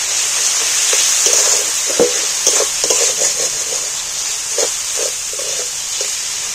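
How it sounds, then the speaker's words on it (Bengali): Jackfruit curry being sautéed with salt, chili and spices in a pan, a steady hiss of frying with scattered stirring clicks and scrapes up close, no speech. "আবারও ভালো করে কষিয়ে নেব।"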